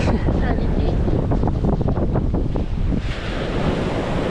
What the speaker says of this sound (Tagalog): Kalalaki ng alon.